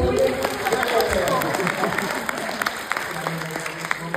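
Audience applause at a film festival master class with a Japanese comedy director, dense clapping spread through the hall with voices mixed in underneath.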